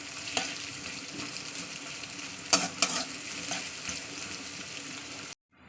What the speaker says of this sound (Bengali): পেঁয়াজটাকে একটু ডালি করে ভেজে দিতে হবে